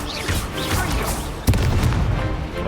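Incendio fire spell cast in the video game Hogwarts Legacy, a sudden loud burst partway through over dense, continuous game effects and music.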